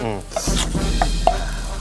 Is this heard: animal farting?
no